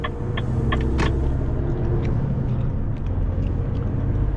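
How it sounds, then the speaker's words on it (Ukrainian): Heavy, continuous rumbling of a truck pulling an empty trailer on a rough road, with a few hollow, drum-like knocks and bangs early on over a steady low drone. "Так не люблю, коли пустий прицеп їде по поганій дорозі."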